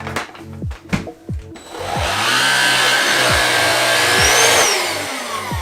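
A handheld cordless stick vacuum cleaner switching on after a few clicks and handling thumps, then a loud, steady high-pitched motor whine with rising and falling pitch, close to the microphone.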